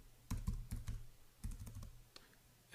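Close, quiet typing on a computer keyboard, two short bursts of rapid key clicks separated by a brief pause, then one louder tap at the end, with no talking.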